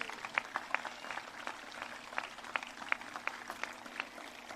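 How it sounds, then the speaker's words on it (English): Scattered audience applause at an outdoor municipal band concert, sharp individual claps popping out of a soft crowd wash, moderately distant and fairly quiet. "Give them all a round of applause"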